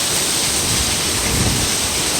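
Steady, loud, dense hiss of heavy rain driven by strong wind fills the whole stretch, close and unbroken, with no voices.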